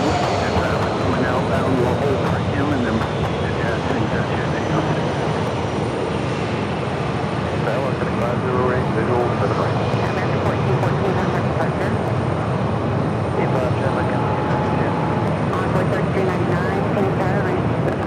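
A DHL heavy cargo jet at Phoenix Sky Harbor airport gives a steady, loud, sustained engine roar with a faint whine, continuous throughout, with someone talking over it intermittently.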